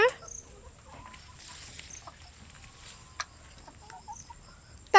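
Chickens clucking softly on a rural farm, a few scattered faint clucks and chirps over a quiet background, with sparse talk nearby.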